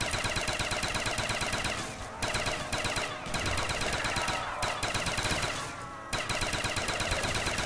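Sustained automatic gunfire in a zombies video game, rapid continuous bursts close and loud with a few brief pauses, no talk.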